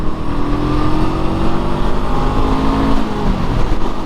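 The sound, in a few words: Honda SCL500 motorcycle downshifting and accelerating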